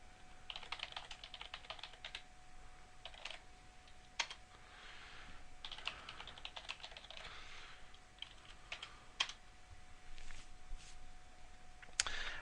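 Commands typed on a computer keyboard at a terminal, with steady, quiet, close key clicks in irregular bursts and occasional sharper taps, without any speech.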